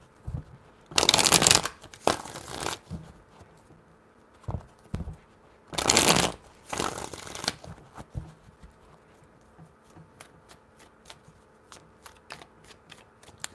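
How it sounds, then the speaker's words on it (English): Tarot cards riffle-shuffled in two separate pairs of loud, dense bursts, each lasting about a second, followed by faint light card taps and handling. "Three shuffles."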